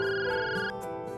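A telephone rings with a bright sustained electronic tone that breaks off abruptly partway through, then gives a shorter burst, loud and close in a quiet room.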